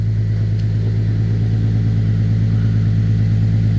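Nissan 370Z Nismo engine idling steadily, a deep low rumble with a regular pulsing throb, close and constant throughout with no revving.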